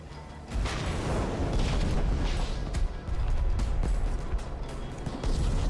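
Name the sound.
fireworks exploding in a video game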